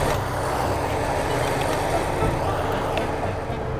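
Dense low rumbling drone of an off-road vehicle engine under throttle, likely a Toyota or Ford Bronco crawling, steady and close with little variation.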